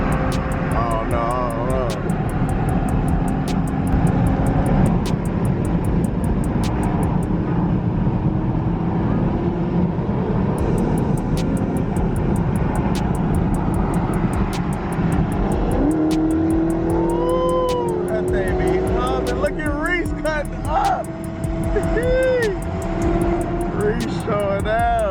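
A Chevrolet Corvette C8 racing after a car meet, its engine roaring loudly and steadily throughout with rising revs, while people talk over it.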